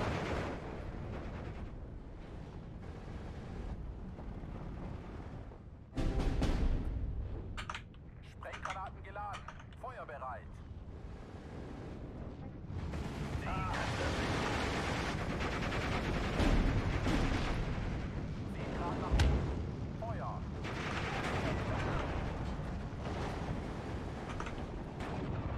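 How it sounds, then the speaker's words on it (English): ZIS-3 field guns used as artillery in a Steel Division 2 battle around Tiraspol fire dull repeated booms. Mechanical clatter and a dense, continuous wash of combat noise run beneath them for the whole stretch. "Yeah, they're ZIS-3s they're using as artillery."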